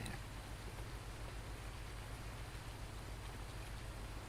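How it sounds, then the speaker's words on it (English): Steady, even rain in Farming Simulator 19 forms a continuous soft wash of noise with a faint low hum beneath, quiet and unbroken throughout. "Well, at least it's raining harder."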